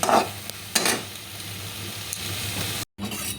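Paneer chilli with sauce is stirred in a pan, with a few scraping strokes over a steady low sizzle and a brief dropout near the end.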